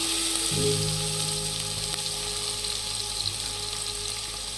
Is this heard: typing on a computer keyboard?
no